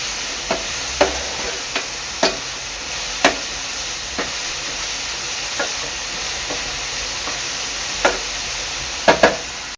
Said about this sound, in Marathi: हे मिश्रण चांगलं सात ते आठ मिनटं असं परतून घ्यायचं आहे